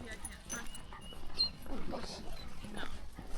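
A Cavalier and cocker spaniel mix dog gives soft whimpers and small yips on an outdoor greenway trail, close by and mixed in with people chatting nearby.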